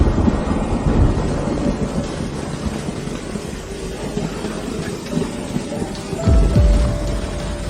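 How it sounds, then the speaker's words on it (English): Heavy rain pours down hard and steady as a loud wash of noise, with a deep rumble of thunder near the end. "It's raining too hard."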